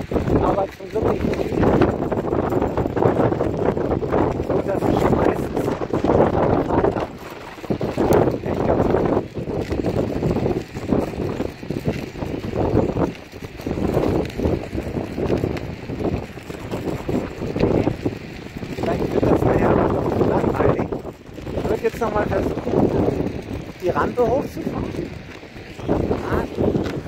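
Wind buffeting the microphone on a dike at the North Sea coast, loud gusty rumbling in bursts that come and go across the whole span, with a voice speaking at times.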